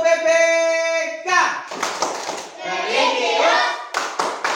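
Elementary schoolchildren in a classroom perform the tepuk PPK clapping chant, rhythmic group claps and slaps punctuating loud chanted voices, preceded by a sustained tonal sound at the start.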